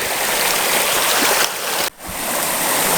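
A creek flows over jagged, exposed bedrock, a loud, close, continuous rushing hiss of water that dips briefly near the end before resuming, with no talk.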